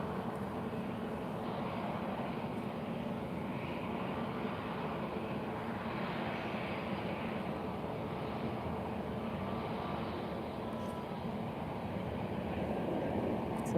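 Aero Europa Boeing 737 landing at Lisbon Airport on a sunny afternoon, heard as a steady, broad jet roar that holds constant throughout, fairly distant and smooth with no talk over it.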